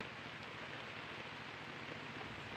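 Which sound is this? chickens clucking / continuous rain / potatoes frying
continuous rain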